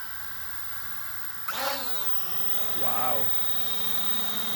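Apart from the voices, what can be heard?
F89 dual camera drone flying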